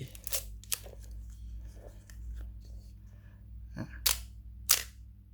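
Sharp mechanical clicks of an Olympus OM-10 film SLR camera shutter in auto mode, a few scattered early and two crisp snaps near the end, over a low steady hum in a quiet room.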